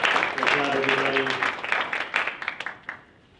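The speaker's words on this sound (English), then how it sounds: "All right, one more round of applause for student government officers." Applause at a school board of education meeting for student government officers, a moderate round of clapping under a speaking voice early on, then thinning into scattered claps that fade out.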